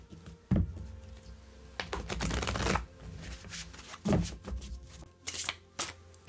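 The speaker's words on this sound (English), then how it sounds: "Give them a little shuffle." A deck of tarot cards is riffled and shuffled close by in several quick, papery bursts with short pauses between, fairly quiet and without talk.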